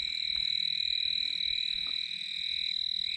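Frogs croaking on a rainy night, a steady, dense chorus of high, ringing calls that carries on without a break, close and fairly loud, with no voices.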